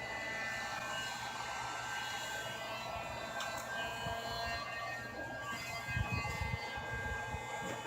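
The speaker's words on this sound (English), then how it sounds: "with the heat gun, you apply the heat gun on the terminal" A heat gun blows a steady, even roar of hot air onto a crimped battery cable terminal during boat wiring work, continuous at close range with a few faint clicks and no talk.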